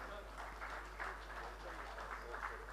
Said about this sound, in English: can we have a big round of applause once again?